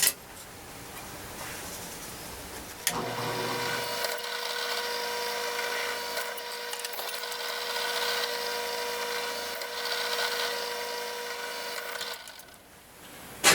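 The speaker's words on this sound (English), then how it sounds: "I'll drill the holes in those." A power drill bores holes in the back bumper pieces of a DIY grille and bumper build for a 2500HD Chevy Silverado, running as one loud continuous whirring stretch of about nine seconds after a brief quieter lead-in.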